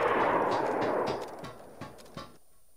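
Gunshot in the DayZ survival game: one loud, close boom with a long rolling tail that fades over a couple of seconds, followed by a few faint shuffling clicks.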